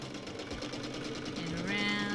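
A sewing machine stitching fabric applique with the feed dogs dropped, a steady close mechanical whir that rises slightly in pitch toward the end.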